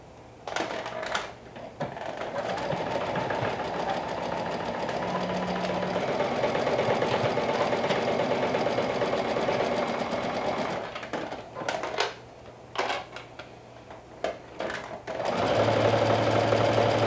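A sewing machine runs in long steady bursts stitching a fabric seam at half-inch allowance, its rapid mechanical whir close and clear, pausing briefly with a few clicks before starting again.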